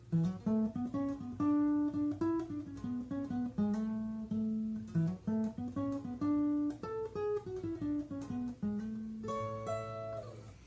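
A guitar picks out the closing riff of a song's chorus, plucked single notes over a bass pulse, close and solo, ending in a brighter strummed flourish.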